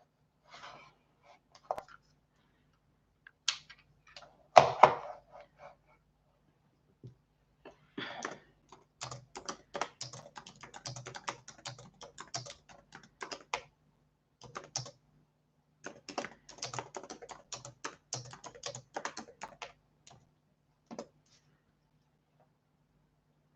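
Bursts of computer keyboard typing, quick irregular clicks in several runs separated by pauses, fairly close and alone, with a brief louder knock near the start.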